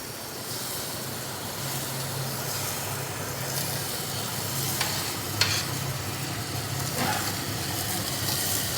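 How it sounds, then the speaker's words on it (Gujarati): A kitchen chimney exhaust hood runs with a steady broadband whoosh over a low hum while tempering sizzles in a pan, with a few faint clicks and clinks, and no voices. "ચીમની શરૂ કરી દો મમ્મી."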